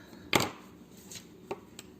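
Crochet yarn is snipped with scissors at the end of a bear-head piece, giving one crisp cut up close followed by a few faint, lighter snips in a quiet room.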